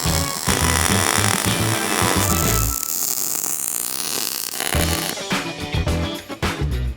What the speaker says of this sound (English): Back to welding.